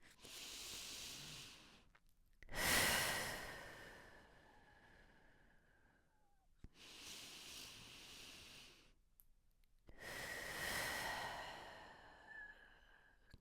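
Slow, deep breaths during a calming evening breathing exercise: long airy inhales and exhales alternating with quiet pauses, close to the microphone, soft and unhurried.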